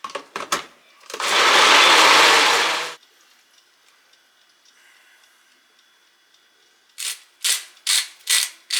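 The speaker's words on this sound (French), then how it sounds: "Je vais mixer le tout pour essayer d'obtenir un houmous." A blender whirs through chickpeas and other ingredients for homemade hummus in a loud, steady two-second burst, followed by quiet and then several short pulsing bursts near the end.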